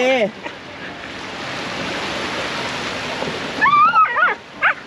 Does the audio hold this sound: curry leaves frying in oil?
no